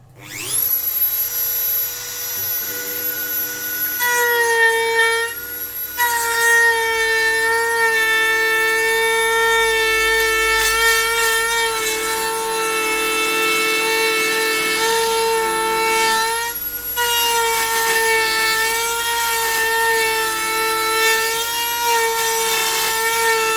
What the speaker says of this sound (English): we can use our trusty Dremel